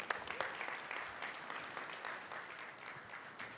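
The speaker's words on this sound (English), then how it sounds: "Round of applause once again, ladies and gents, Mr. Rohit Bassi." An audience applauds steadily at a sales talk at an ATM Dubai event, a dense, even clapping that fades slightly toward the end.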